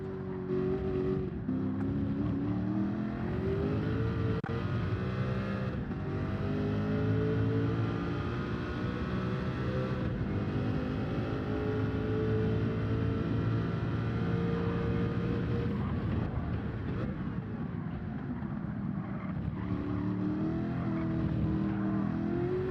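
Group C race car engine in Gran Turismo 7, a loud sustained drone with rising and falling revs through gear changes, running continuously without talk.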